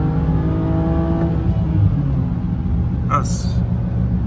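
A BMW E90 pulls hard from about 40 mph on an open road, its engine a loud steady rumble with rising harmonics close by and a brief higher burst late on.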